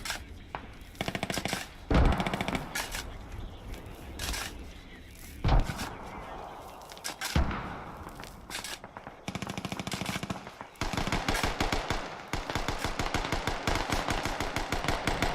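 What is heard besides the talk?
machine gun fire from an MG bunker in the video game Squad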